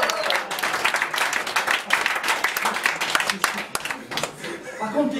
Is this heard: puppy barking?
no